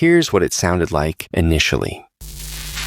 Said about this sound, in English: The third layer was made from a hiss sound.